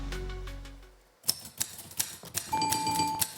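A typewriter sound effect played as a quiz question follows a fading low tone. It gives a string of sharp, evenly spaced key clacks and ends with a bright carriage-return bell, clear and close.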